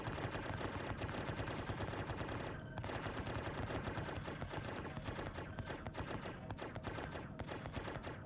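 Ship energy weapons fire continuously during a Star Citizen space battle with a Taurus, a dense rapid stream of pulsing shots that stays loud and steady, with only a brief dip partway through.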